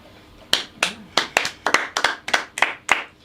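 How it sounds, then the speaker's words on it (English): A small group claps in about a dozen sharp, close hand claps, loose and uneven in rhythm, with brief gaps between them and no voices. "I think we got to give a round of applause for the writers of The Simpsons."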